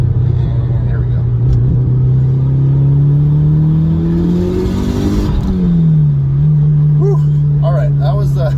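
A Mitsubishi Lancer Evo 6 pulls hard in third gear, its engine note climbing steadily and loudly for several seconds before a sharp drop at the shift, then it settles into a steady drone.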